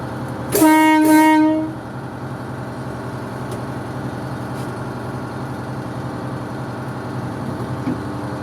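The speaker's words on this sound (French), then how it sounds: "Un petit klaxon." A loud, sustained boat horn blast of about a second sounds over a steady rumble of rail traffic near Sète, which continues afterward.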